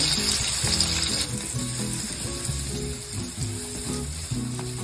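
Cumin seeds and onion fry in hot oil for a Mangalorean chicken curry, giving a loud, close, continuous sizzle with crackling pops and a few soft stirring knocks and scrapes beneath it.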